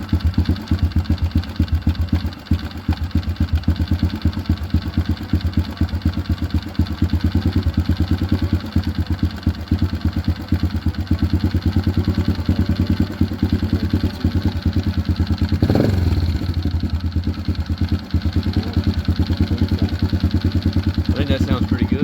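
A Honda CRF110 motorcycle idles steadily while its idle speed is adjusted, a continuous close putter with a brief surge partway through, and a voice talks at points over it.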